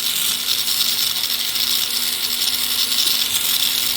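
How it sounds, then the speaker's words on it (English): A tool smooths a silver ring in a steady, continuous high-pitched hiss and whir with a faint constant hum, close and even throughout without pauses or talk. "Just smoothing out the rest of the ring here."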